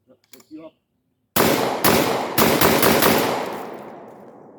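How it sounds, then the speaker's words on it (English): Lynx 12 AK semi-automatic shotgun fired rapidly at targets outdoors, four loud, booming shots in quick succession with a long ringing decay, after a few brief quiet sounds. "shooting at those targets as fast as I can shoot the gun"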